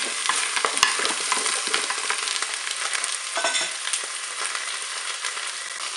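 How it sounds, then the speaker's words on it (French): Onions browning alongside chicken in a Cookeo multicooker, a steady crackling sizzle with occasional scrapes of stirring, close and moderately loud, no talking. "je vais ajouter les oignons. On va les faire dorer aussi."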